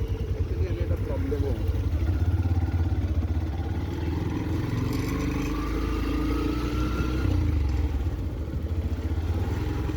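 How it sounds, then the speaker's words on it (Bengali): Motorcycles on a busy rural road rumble past in a continuous, fairly loud engine drone with rising and falling revs, heard from a moving vehicle while a person talks throughout. "এখন সামনে থেকেও বাইক আসছে, আমি একটু স্লো করে নেবো।"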